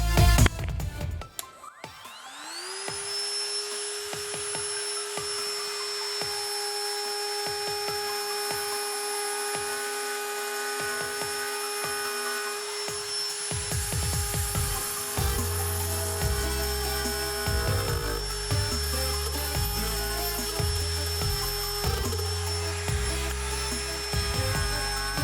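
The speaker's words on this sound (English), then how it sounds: "That really was super easy to cut into this poplar" A Dremel 8260 rotary tool spins up to a high, steady whine with clicks before it starts. The pitch holds as it cuts into poplar, with gritty grinding and chatter from the bit biting the wood in the second half.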